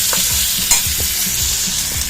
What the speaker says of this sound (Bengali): একটু ভাজা করে নিচ্ছি, মানে কষিয়ে নিচ্ছি